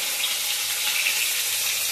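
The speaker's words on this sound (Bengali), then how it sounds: "মাছ ভাজাটা বসিয়েছি যে" Continuous bright sizzling of food frying in hot oil, close by and steady, with no talking.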